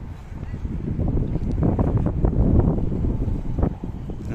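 Low, rumbling gusts of wind buffeting the microphone in Shymkent, swelling and fading continuously over several seconds.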